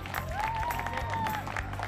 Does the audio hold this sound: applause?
yes